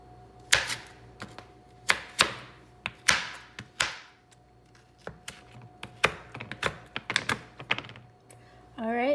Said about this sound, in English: I have a Hershey's cookies and cream bar, which I'm going to be chopping up.